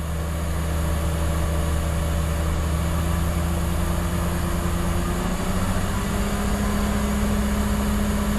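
A car engine held steady at about 1500 RPM right after an intake valve carbon cleaning, giving a constant loud, even drone with a slight shift in pitch partway through and no voices.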